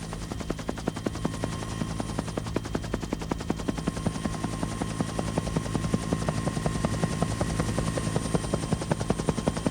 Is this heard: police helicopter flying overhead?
yes